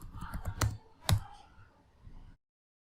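Computer keyboard keys clicked in a short burst, with two sharper strikes like a paste shortcut and an Enter press, close and fairly quiet, then fading out.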